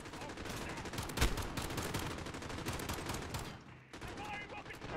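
Continuous rapid gunfire in the Call of Duty Modern Warfare video game, dense and loud throughout, with one sharper heavy shot early on and a brief dip before the firing resumes.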